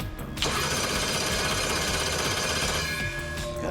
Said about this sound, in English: Just give me some ignition, and then we're gonna crank it so we get a big fat spark here.